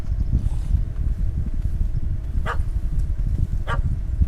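A puppy in The Witcher game gives two short, sharp barks spaced about a second apart, each rising clearly over a steady low rumble of wind and ambient background noise.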